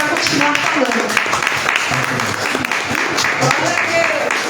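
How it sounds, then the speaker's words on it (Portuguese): A church congregation claps for Jesus during a live worship service, dense steady applause filling the whole stretch, with voices and some tonal sound running underneath. "E as palmas é para Jesus."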